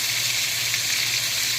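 Country fried chicken sizzling in butter in a pan, a continuous, even hiss of frying heard up close with no voices.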